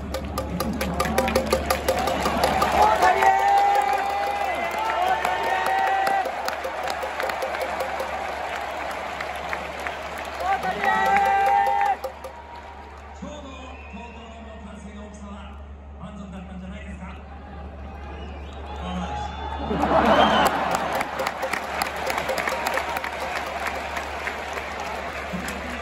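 A baseball crowd roars in the Tokyo Dome after a Samurai Japan win over Australia at the 2023 World Baseball Classic. Loud cheering and applause swell, fade to a lull with a low hum, then surge again.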